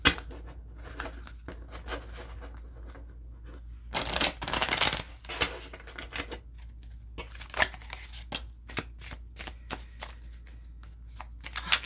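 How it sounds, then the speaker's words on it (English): Tarot cards being shuffled by hand, close and crisp, in repeated bursts of riffling and flicking with short pauses between, including one longer dense shuffle in the middle. "Let's go ahead and shuffle"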